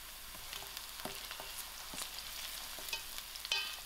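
Cinnamon stick sizzling in hot cooking oil with softened onions, a steady close crackle and hiss broken by light stirring clicks, with no talk.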